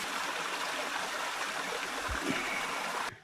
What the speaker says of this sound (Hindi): ये पानी देखो कहाँ से आ रहा है, वो देखो वहाँ से झरना चल रहा है